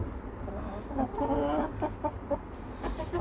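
Backyard hens clucking close by, several overlapping bursts of clucks with a low background hum.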